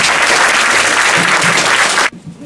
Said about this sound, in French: Et on va l'applaudir très très fort.